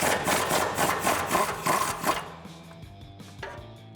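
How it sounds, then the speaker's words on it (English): A 19 mm socket loosens a nut during a suspension lift install on a 2007-2020 Toyota Tundra, giving a quick run of rhythmic rasping strokes for about two seconds before it settles into quieter metallic ringing. "we're gonna put that on our 19 millimeter socket and loosen up this nut."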